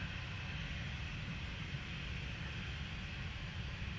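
A Ryanair airliner inbound from Tenerife applies engine power on approach at a wet, windy Manchester Airport, a steady distant jet roar rumbling evenly with wind noise, no talk.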